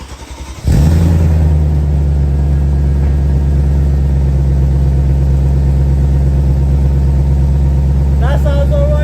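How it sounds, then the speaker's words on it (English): An Audi RS4 B6 fitted with new mufflers cranks and fires up, then settles into a loud, steady, deep idle rumble close by that runs on unchanged, with a short voice near the end. "Now it's time to start the car to see what it sounds like."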